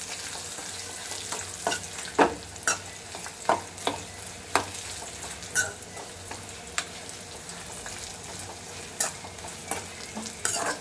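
Green chillies sizzle and fry in a pan while a spoon stirs them, giving repeated soft scraping clicks over a steady low crackle, close and fairly quiet.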